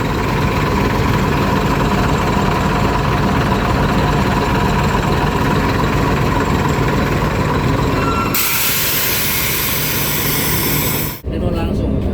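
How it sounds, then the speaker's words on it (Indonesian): A steady, loud Scania bus engine drone runs throughout with a broad rumble, shifting in tone near the end before a brief cut; voices may be faintly mixed in. "Suara mesin."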